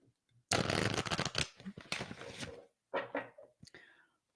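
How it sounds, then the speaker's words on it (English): A deck of playing cards being shuffled up close: a long crisp riffle burst followed by several shorter riffles and bridging flutters, separated by brief pauses. "One more shuffle."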